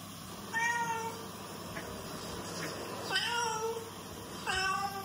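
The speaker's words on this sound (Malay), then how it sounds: "Betul, ini bunyi kucing." A cat meows three clear times, drawn out and close, with faint softer mews between them over a quiet background.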